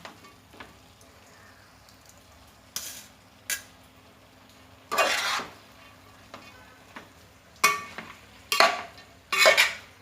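A spatula scrapes and tosses chicken fried rice in a pan in several separate bursts, each stroke a short metallic rasp over a low background sizzle.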